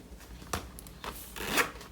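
A zipper slides shut on a handmade beach bag in short, close, scratchy runs, with quiet rustles between the pulls.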